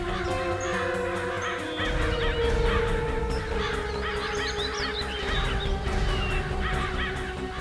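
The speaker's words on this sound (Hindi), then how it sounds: "वहाँ थोड़ा पानी दिख रहा है और बहुत सारे कौवे भी मंडरा रहे हैं।" Many crows cawing together near water, a dense overlapping chorus of harsh calls with a low rumbling background that grows louder after the first seconds.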